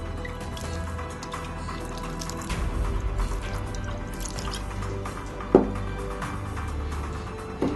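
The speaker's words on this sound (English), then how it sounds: "Soy sauce, about 2 tablespoons." About two tablespoons of soy sauce pour into a pork, cabbage, ginger and garlic dumpling filling, giving soft, quiet liquid trickles and drips with one sharp tap partway through.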